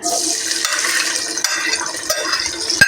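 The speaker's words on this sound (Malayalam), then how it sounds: "ഇത് നമ്മൾ ചതച്ച് വെച്ചേക്കുന്ന വെളുത്തുള്ളി, സവാള, പച്ചമുളക്, കറിവേപ്പില, തക്കാളി ഇതെല്ലാം കൂടെ ഒരുമിച്ചിട്ട് വാട്ടുവാണേ." Crushed garlic, onion, green chili, curry leaves and tomato sauté together in hot oil for a biryani, giving a steady sizzle with occasional spoon stirs and clinks against the pan, fairly close and without talking.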